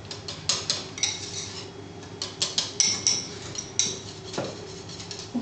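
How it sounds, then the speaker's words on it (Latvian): Utensils clink against a bowl while potato salad is stirred with salt and pepper, a run of bright metallic taps and scrapes in loose rhythm, close and clear without speech. "Sāls un pipari. Visu to samaisam."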